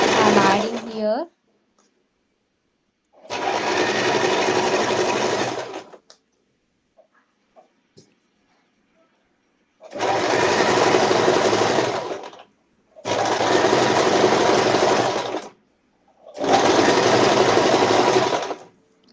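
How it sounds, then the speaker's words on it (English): A sewing machine stitching lace runs in several steady whirring bursts of a few seconds each, separated by quiet pauses, loud and close with no voice over it. "So this is a simple stitching I'm making just from ending to here."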